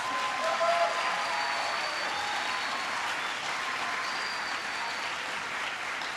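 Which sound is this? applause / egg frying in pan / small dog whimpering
applause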